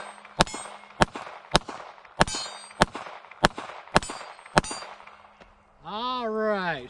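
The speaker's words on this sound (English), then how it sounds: "Alright, shot all those just fine." A Sig P365 XL pistol with an Icarus Precision ACE EVO grip module fires about eight sharp, loud shots at a steady pace, each ringing briefly. A faint hum runs underneath, and a short whistling tone follows at the end.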